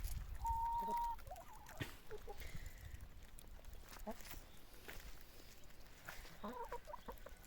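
Hens in a small flock that are ailing, with the disease being vaccinated against being Newcastle disease, cluck in short, scattered calls close by while a voice talks over them.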